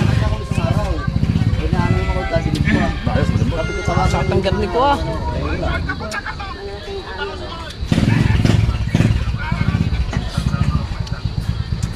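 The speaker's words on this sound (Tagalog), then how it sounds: "Yun, naandar na yung motor." A motorcycle engine idles and revs close by with a rough, pulsing throb that dips and then surges, while people talk over it.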